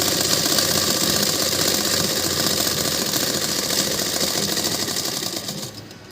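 A sewing machine runs continuously, stitching the side seam of a straight-cut long suit, a steady close whirring chatter that holds for several seconds before easing off at the very end.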